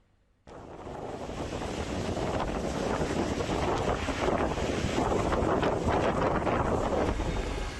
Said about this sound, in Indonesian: Para pemotor di Lamongan panik saat angin kencang menerjang kendaraan mereka.